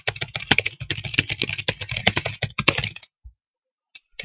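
Rapid, dense keystrokes on a computer keyboard as data is entered run for about three seconds, then stop abruptly, leaving near silence with one or two faint taps.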